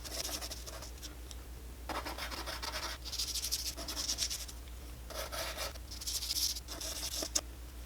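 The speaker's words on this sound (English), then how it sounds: "now let's try some pastel pencils" A pastel pencil scratches and rubs across textured pastel paper in repeated bursts of strokes, close and fairly soft, with brief pauses between passes.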